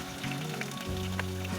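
Onion and garlic fry in hot oil, giving a brief, close, steady crackling sizzle with no voices.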